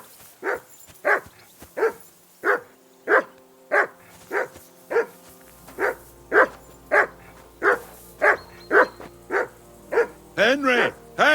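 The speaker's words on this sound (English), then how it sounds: "Call off that mutt of yours!" A dog barks in steady, evenly spaced woofs in the Kingdom Come Deliverance 2 video game, about fifteen loud, close barks in a row, with the last few coming quicker and rising into whiny yelps.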